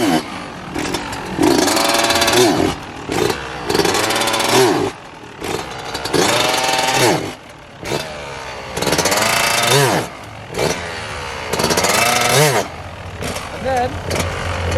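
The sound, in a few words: dirt bike engine revving during a wheelie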